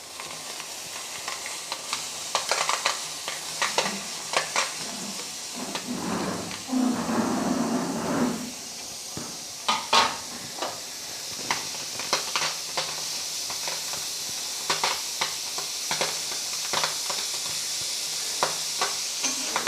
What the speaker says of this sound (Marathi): गॅसवर तवा ठेवून बावची त्यामध्ये भाजून घ्यायची